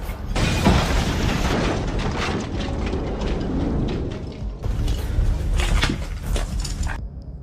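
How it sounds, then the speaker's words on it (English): A grenade blast goes off inside a building during combat, a loud shattering burst with clattering debris that cuts off abruptly, followed by a second harsh crash. "A grenade ends the standoff."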